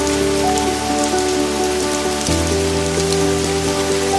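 First rain of the season falling steadily on surfaces, a dense continuous patter of drops that stays loud and even throughout, with soft musical tones sustained underneath.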